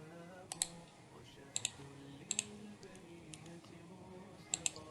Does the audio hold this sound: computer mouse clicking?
yes